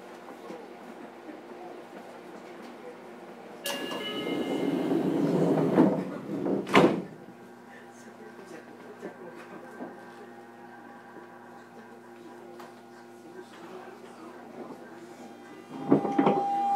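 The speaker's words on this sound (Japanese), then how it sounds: "閉まるドアにご注意ください。" Doors on a Fukuoka City Subway 2000 series train closing on the Chikuhi Line, a hissing slide and thud heard from inside the carriage amid steady running hum, with a later second knock and onboard announcement voice.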